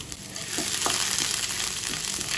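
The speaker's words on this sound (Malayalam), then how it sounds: "തീ കുറച്ചിട്ട് ഇതൊന്ന് ലൈറ്റായിട്ട് ഫ്രൈ ചെയ്യണം" Chana dal and chopped ginger frying in hot oil over low heat, a steady close sizzle with a few soft stirring scrapes and no talking.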